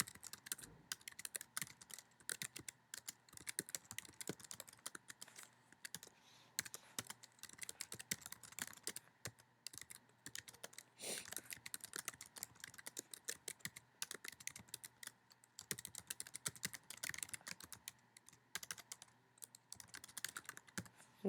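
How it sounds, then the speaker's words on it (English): A computer keyboard is typed on steadily and continuously, with quick, soft key clicks in an uneven rhythm and no talking. "I'm going to go ahead and type what the reducing carbon footprint even means."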